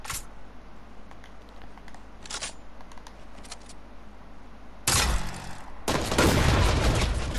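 Gunfire in the shooter Lone Wolf: faint scattered shots at first, then two loud, dense bursts of rapid firing close by in the last seconds, with no voices.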